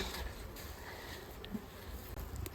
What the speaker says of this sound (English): come on wasps, out the way, because I will stick you down